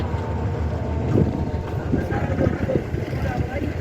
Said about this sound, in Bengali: ওই যে দেখছেন একটি ট্রলার আসতেছে ময়ূরগঞ্জ ঘাট থেকে